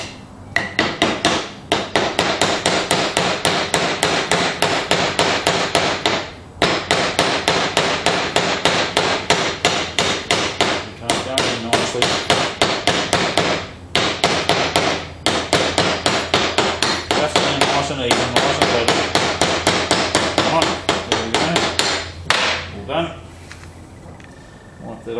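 Rapid, steady metal hammer strikes on a trailer wheel bearing being driven into place, loud and close, running in long bursts with brief pauses between them.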